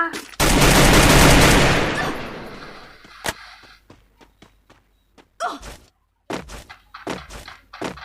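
Gunfire in the Free Fire battle royale game: a loud sustained burst of automatic fire for about two seconds, then a single sharp shot and scattered short shots and thuds, with brief mutters under the action.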